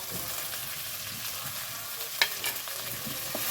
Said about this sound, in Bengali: আমি এই মশলাগুলো সব ভালো করে এখন একটু কষিয়ে নেব